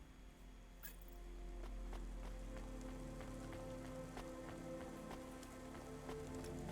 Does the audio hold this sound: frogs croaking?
no